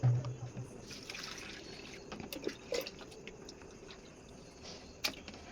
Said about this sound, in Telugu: మళ్ళీ ఫ్రెష్ వాటర్ పోసుకోవాలండి